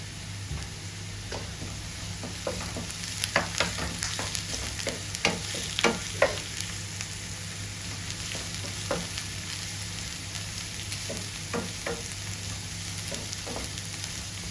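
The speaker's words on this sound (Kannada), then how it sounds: "ಈಗ ಕರಿಬೇವು ಸೊಪ್ಪು ಕೂಡ ಹಾಕ್ತಾ ಇದ್ದೇನೆ." Curry leaves crackling and sizzling in hot ghee for crab ghee roast, with a steady close fry and scattered sharp pops and spatters throughout.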